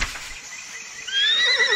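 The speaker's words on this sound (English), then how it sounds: "Horse." A horse whinnies loudly and alone, the high quavering neigh rising and wavering near the end after a softer opening.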